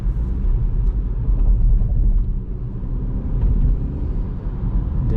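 Dongfeng Forthing T5 EVO being driven at night, heard as a steady, low in-cabin road and engine rumble that flows on evenly with no harsh jolts at the gear changes.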